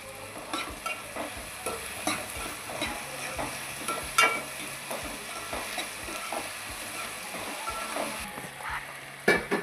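Onions fry in a pan with a constant soft sizzle, broken by repeated scraping and clinking as a spoon stirs them close by.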